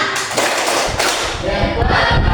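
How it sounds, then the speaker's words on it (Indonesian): A group of people in a classroom applause game claps thumbs together in quick uneven patting thuds, close and fairly loud, a few seconds long. "Tepuk jempol dulu untuk mereka."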